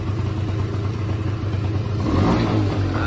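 Honda Scoopy SH75 scooter with a weak battery, its engine idling close by and then rising as it is revved, a rough mid-pitched motor sound with no speech.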